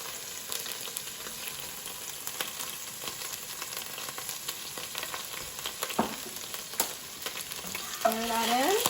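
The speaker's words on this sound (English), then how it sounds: "coming apart as they fry in the oil" Anchovies and red chili flakes sizzle and fry in hot oil in a pan for pantry pasta, a steady close crackle throughout with occasional spoon scrapes and a brief stir near the end.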